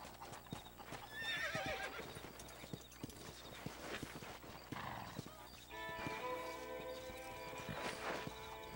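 Horse hooves clip-clop in the Red Dead Redemption video game, steady rhythmic steps with a whinny or neigh partway through, over game music and ambient sound.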